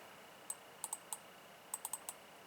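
Short, sharp mouse clicks tick out in two small bursts while someone navigates the menu of a four-camera home security system, each click crisp and close against a quiet background with no talking.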